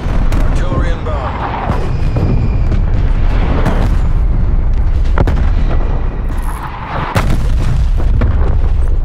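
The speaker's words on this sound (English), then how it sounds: "Artillery inbound." Heavy artillery shells exploding in a game's combat zone, with dense continuous rumbling booms, several sharp nearby blasts and cracks over a constant loud battle din.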